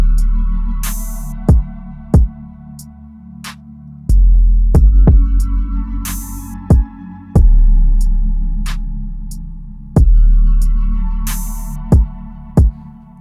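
Hip-hop beat with a deep EQ'd 808 bass line, punchy kick and snare hits and a dark sustained melody, with open hats and cymbal swells, loud and up front, playing alone with a steady rhythmic pattern.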